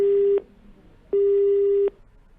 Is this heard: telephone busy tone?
yes